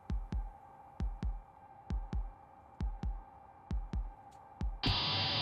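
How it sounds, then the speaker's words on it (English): Heartbeat sound effect in a short horror film, paired thumping beats in a slow steady rhythm over a low hum, ending in a sudden burst of hiss. "There's probably his heartbeat."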